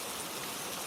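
Steady rain falls close by in a dense, continuous hiss of drops with no pauses and no voices.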